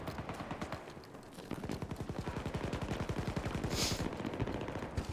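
Rapid-fire drum-magazine shotgun blasts in the Battlefield 2042 shooter, a dense, fast rhythm of loud booming shots running almost continuously, with game effects layered over them.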